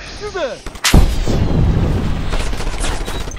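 A C4 pack detonates in the video game Just Cause 2 with a sudden loud, close blast, then a long rumbling roar and crackle of debris. Short whistling tones come just before the explosion.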